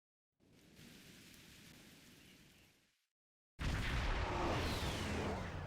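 Steady rain pours in the Star Trek Online co-op mission Stormbound, a moderate hiss that cuts out briefly, then returns much louder and denser, with no voices.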